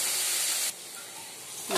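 Steam hisses loudly and steadily from a covered cooking pot on a gas stove, drops to a softer hiss partway through, then swells again at the end.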